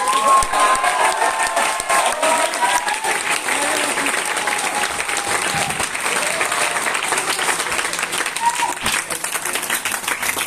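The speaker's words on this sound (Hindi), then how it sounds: "तो एक बार जोरदार ताली आपके सारे अप्लायंस के लिए होनी चाहिए।" An audience at a corporate speech event bursts into loud, sustained applause, a dense wash of many hands clapping that continues unbroken for about ten seconds.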